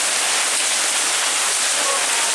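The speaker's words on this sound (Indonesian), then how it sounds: "Hujan es di kota Jogja." A hailstorm pelts down over the city of Yogyakarta, a dense, continuous hiss of ice striking surfaces that stays loud and even throughout, with no voices.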